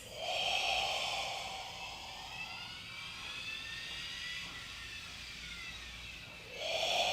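Deep breaths during a mat exercise: a long, loud, breathy rush of air that carries on for several seconds, then another strong breath swells at the end, close to the ear with no talking.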